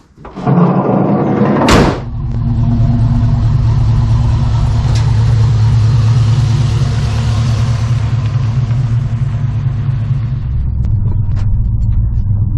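A 1986 Chevy C10 pickup with a swapped 6.0 LS V8 rumbles steadily at close range, with a door slam near the start and a deep, continuous engine drone as it drives on a slick, wet day.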